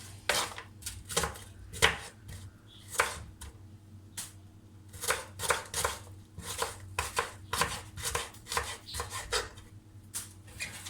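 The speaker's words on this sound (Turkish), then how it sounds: "Soğanlarımızı doğruyoruz." Repeated knife chops through onions on a cutting board in an uneven rhythm, close and fairly quiet, with a low steady hum underneath.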